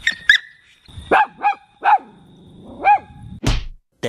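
Dogs barking at night by the sea, several sharp close barks and yips in quick irregular succession, loud and distinct against a quiet background.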